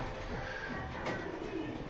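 Birds coo softly in a loft, a low murmuring under steady background noise with no speech.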